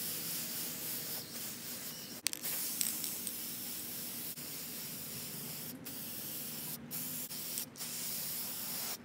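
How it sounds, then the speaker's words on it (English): Aerosol spray paint hisses in bursts with short pauses between passes, close and steady, painting a metal chair rose gold, with faint rubbing and clicks in the quiet background. "I'm going to spray paint"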